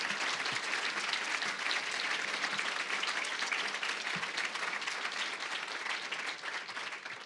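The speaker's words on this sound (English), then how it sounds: "I'd like to give her a nice round of applause and thank you." Banquet audience at a college culinary honors dinner applauding steadily, a dense, even wash of clapping that holds loud throughout and eases slightly near the end, with no talk over it.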